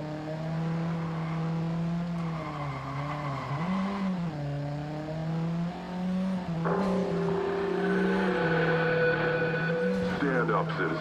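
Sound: car drifting in video game Watch Dogs

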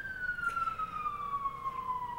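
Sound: emergency vehicle siren passing by

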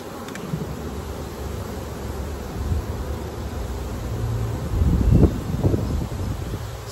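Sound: honeybees buzzing in a queenless colony

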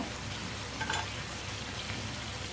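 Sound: poa fish bhuna cooking and sizzling in a pan

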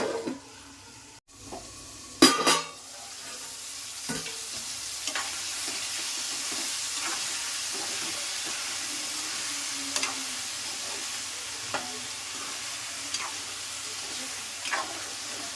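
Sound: stirring brinjal curry frying in a pan

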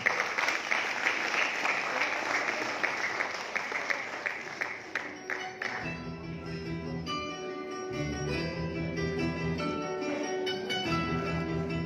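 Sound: audience applause at a press meet

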